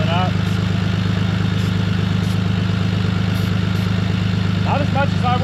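A 1940 Plymouth Deluxe engine idles with a steady, close, rhythmic low pulsing that continues throughout. Faint voices can be heard briefly over it.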